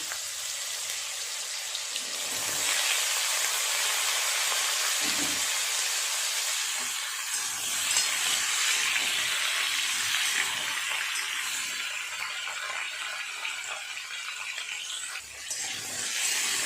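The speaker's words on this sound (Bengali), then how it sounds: "ঝিঙে আলুগুলো দিয়ে একটু ভাজা করে নেব।" Ridge gourd and potato pieces fry in a pan with a steady, loud, unbroken sizzle and hiss that keeps going at an even level without pause.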